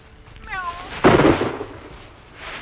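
A human voice imitates a cat's meow, a short rising-falling cry, followed by a burst of noisy crackle and a faint hiss, from an old vintage hunting safety film.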